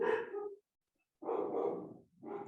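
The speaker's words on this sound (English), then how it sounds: "My dogs are mad." Dogs bark in two loud, close bursts separated by a short silence, the barks rough and agitated with no talk over them.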